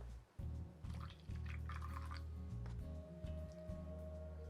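Caffe latte is poured into a container in short, quiet trickles and drips close up, with brief pauses between pours.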